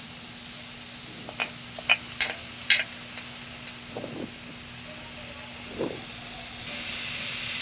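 Garlic, onion and shrimp paste sautéing in a pan for Bicol-style binagoongan: a constant hissing sizzle with a few light clicks and scrapes of stirring, close and even in level.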